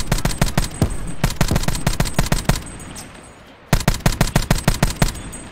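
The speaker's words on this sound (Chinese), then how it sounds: "天啊，这枪子弹乱飞。" Rapid automatic gunfire in Call of Duty: Black Ops 4 Blackout, loud close bursts of shots in quick rhythm, pausing briefly before another sharp burst resumes.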